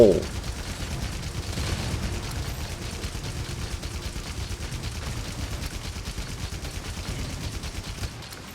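A Heavy Bowgun fires special ammo in Monster Hunter Rise Sunbreak, a sharp blast followed by a dense, rapid rattle of shots with a game soundtrack underneath, continuing for several seconds before cutting off.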